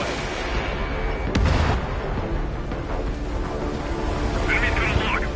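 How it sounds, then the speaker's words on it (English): A missile fires from a fighter jet in the air-combat game Ace Combat 7, a loud roaring burst amid constant engine drone and radio chatter, with a sharp whoosh and rumble near the middle. "Missile away."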